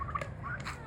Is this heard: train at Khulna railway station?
no